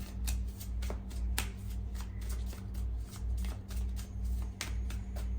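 Playing cards shuffled for a card reading, a steady run of quick riffling flutters and soft slaps repeating close up for several seconds, with no talking.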